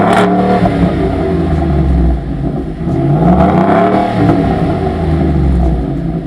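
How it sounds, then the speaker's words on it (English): A 2020 Ford F150 XLT pickup with a 5.0 V8 and an AWE exhaust revs loudly and close by, its deep throaty roar rising and falling through several blips with no talking. "this exhaust sounds amazing"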